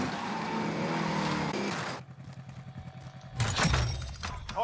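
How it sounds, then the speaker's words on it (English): Car engine driving in the Call of Duty Warzone video game, a loud steady drone that drops off midway and then surges back with rougher bursts. "You said it's hard to hear over the car."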